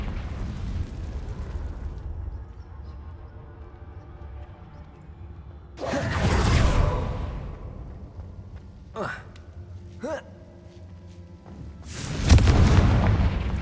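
Confringo fire spell blasts in the Hogwarts Legacy video game: two loud booming bursts, one near six seconds and one near twelve, with brief sharp pops between, over a low game background and a voice.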